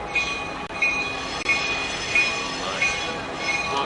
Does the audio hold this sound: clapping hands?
no